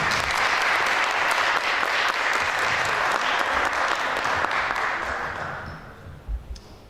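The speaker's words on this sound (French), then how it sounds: "Elles ont besoin de vos applaudissements." A theatre audience at an arts centre gives sustained, loud applause before a play, which thins out and fades near the end.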